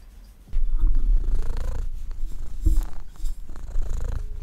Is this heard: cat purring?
yes